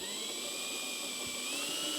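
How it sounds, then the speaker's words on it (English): A power drill whines steadily while boring 9/16-inch holes in a Harley-Davidson Street Glide motorcycle fairing, giving a continuous high-pitched tone that rises slightly in pitch toward the end, close and sustained with no talking. "we're just going to drill these holes here."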